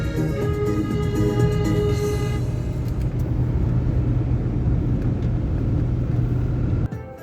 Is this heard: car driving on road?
yes